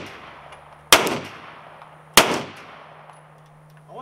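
Two sharp, loud gunshots about a second apart ring out nearby, each with a short echoing decay, over a quiet background hum.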